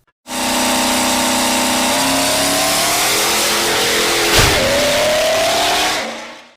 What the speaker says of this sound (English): build a dedicated diesel dragster with an LBZ Duramax engine